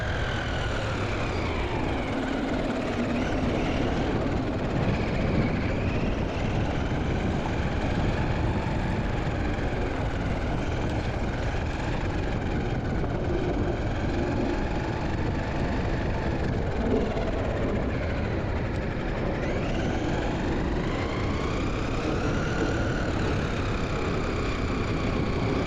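A Traxxas Rustler 4x4 VXL RC car drives hard on a road, its motor whine holding steady and loud throughout with rising and falling pitch sweeps as it speeds up and turns, alone without talk.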